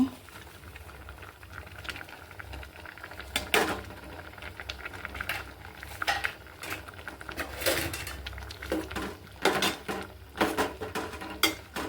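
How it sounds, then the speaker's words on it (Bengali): Jute leaves dropped into a pot of simmering lentils, with a steady boil underneath, a few sharp clatters of a utensil against the pot and soft stirring rustles, close up and fairly quiet. "এখন আমি এই যে পাট শাক দিয়ে দিব"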